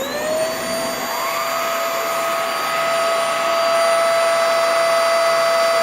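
Hoover Air Steerable upright vacuum running its brush roll on carpet in a market setting, a steady loud whine with strong tonal motor harmonics that shift pitch early on, then hold constant with no speech.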